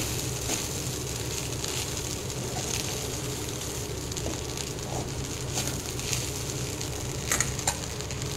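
Egg and poha stir-fried and mixed together in a pan, a steady, even sizzle with faint scraping of the spatula, with no talking.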